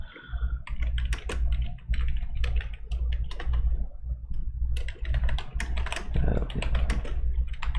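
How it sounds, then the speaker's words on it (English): Fast, steady typing on a computer keyboard while writing a message, with dense clusters of close, crisp key clicks and brief pauses between bursts. "I'm just typing a message here."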